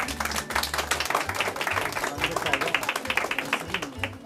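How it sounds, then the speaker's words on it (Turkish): Applause for a young boy named Berat, honored as commander at a gendarmerie and coast guard event, with scattered clapping under a steady low hum and some talk. "Berat komutanımızı önce bir alkış"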